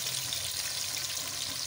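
Garlic and spices fry in a pan with a steady, dense sizzle that holds at an even level throughout, close by and without any talking.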